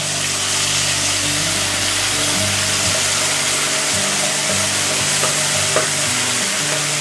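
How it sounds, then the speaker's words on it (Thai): Red chilies and garlic stir-fried in hot oil make a continuous close sizzle, with spatula scrapes and clinks against the pan scattered throughout, no speech. "แป้งก็จะผัดกับน้ำมันให้หอมเลยค่ะ"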